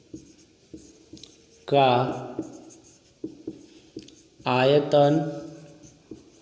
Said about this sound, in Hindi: तो लिखेंगे हम अवयव